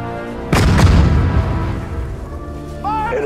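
Artillery and guns fire in the WWII D-Day mission of the Sudden Strike 4 video game. Two heavy booms land close together, followed by a lingering rumble of distant battle.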